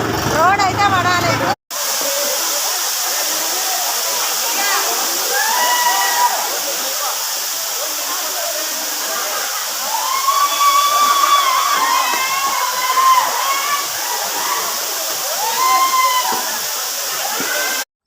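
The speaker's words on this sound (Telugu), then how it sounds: "మనం గాంధారి వాటర్ ఫాల్ పోతాను" Steady broadband rush of Gandhari waterfall near Medaram, a close, continuous roar of falling water, with bird calls chirping above it throughout and a brief cut near the start.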